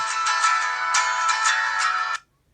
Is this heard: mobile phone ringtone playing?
yes